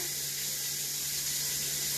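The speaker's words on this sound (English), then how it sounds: "Just going to grab a bit of warm water, guys." Warm water runs from a kitchen tap in a continuous, even hiss and splash. The flow is steady for a couple of seconds at moderate loudness with no voices.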